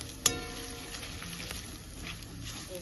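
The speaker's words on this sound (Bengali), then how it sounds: "এবার এগুলোকে সুন্দর করে আমি একটুখানি নাড়াচাড়া করে কষিয়ে নেব" Chili and cumin powder spices frying in a pan while being stirred give a soft, continuous sizzle, close by, with a single sharp utensil clink near the start.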